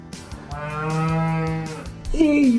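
A single long, loud cow moo close by, held steady before rising into a higher bellowing note at the end.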